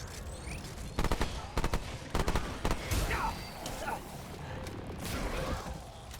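Gunfire rings out in the co-op shooter Remnant 2 in sharp bursts of rapid automatic shots, several clusters spaced over a few seconds, fairly loud against a rumbling game soundscape.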